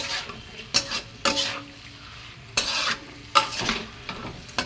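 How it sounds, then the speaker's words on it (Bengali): Bhetki fish curry masala with dried red chilli fries on a high flame, for a dish with potato and cauliflower; a constant sizzle runs under several distinct scraping stirs of a spatula across the pan, close and without talk. "গ্যাসের ফ্লেমটাকে বাড়িয়ে এটাকে সুন্দর করে কষে নেব"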